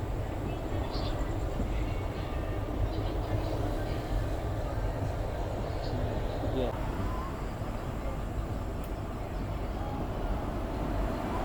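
A train on the Puri to Kolkata line pulls into Dankuni railway station with a steady, loud rolling rumble of wheels and carriages that lasts throughout.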